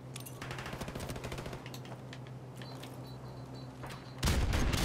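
Rapid automatic gunfire in the video game Call of Duty Modern Warfare Remastered during a team deathmatch, a dense close string of shots ending in a loud, sudden blast.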